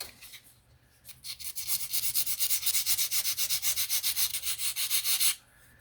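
A lithoplate seat part for a Blackburn Monoplane scale model being sanded: steady rapid back-and-forth rasping strokes after a few light scrapes, close and bright, stopping abruptly, no talk.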